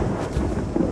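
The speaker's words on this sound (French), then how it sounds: "une grande tempête a commencé à se manifester" Thunder rumbles through a heavy rainstorm in Kyoto on a summer afternoon, a continuous low, loud roll with no clear separate claps, mixed with the wash of rain.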